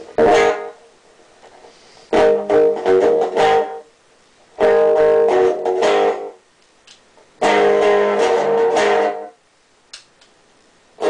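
Electric guitar played through a homemade cigar box amplifier with a delay effect, strummed in four short bursts separated by pauses, each phrase trailing off in distorted, echoing repeats.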